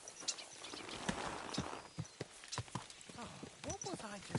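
Horse hooves clip-clopping at a walk in the video game Kingdom Come 2, steady close thuds on the ground mixed under people talking over the footsteps.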